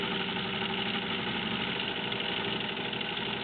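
A Singer 15-91 sewing machine runs smoothly at a constant speed, giving a close, even motor hum and steady whir with no clunking and no talk.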